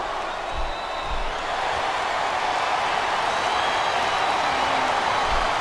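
Steady crowd roar from a capacity arena audience in the SmackDown vs Raw video game, a continuous broad wash of cheering with faint clapping, even in loudness throughout with no talk over it.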